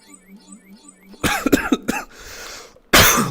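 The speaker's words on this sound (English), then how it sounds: "Sorry, I'm coughing on the microphone." Someone coughs loudly right into a microphone, a cluster of harsh, close coughs followed by a breathy pause and one more sharp cough, over a quiet game soundtrack with a looping melodic tone beforehand.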